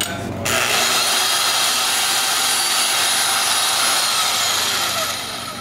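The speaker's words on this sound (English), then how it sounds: "I'm just gonna try to cut this stud deal off" Power tool grinding through a steel stud on a shock bracket in a Miata engine bay during an LS swap, one steady loud whining cut running for several seconds after a brief start, with no talk.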